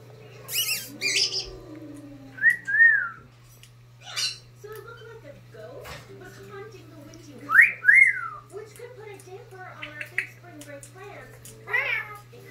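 A twelve-year-old brown-headed parrot gives a few short, bright rising-and-falling whistles and soft squawks, spaced out over a steady low hum, while a person talks nearby.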